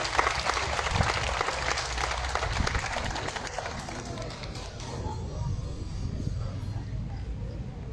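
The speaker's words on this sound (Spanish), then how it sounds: "Fuerte el aplauso para ellos" An audience at a school civic ceremony in Puente Piedra applauds a student performance with dense, loud clapping that thins and fades toward the end. Crowd murmur and voices run underneath.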